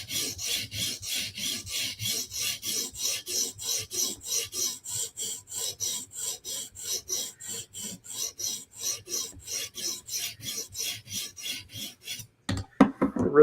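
A Yojimbo knife blade being sharpened on a TSProf Kadet sharpener, rapid even rasping strokes repeating back and forth in a close, steady rhythm before stopping with a couple of sharper knocks at the end.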